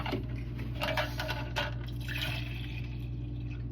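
Plain water runs into a water bottle being filled, a steady close pour with splashy bursts over a constant low hum.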